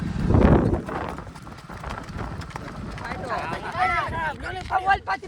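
A ridden mare's hooves clop in uneven, close beats while people talk and call out over the steps.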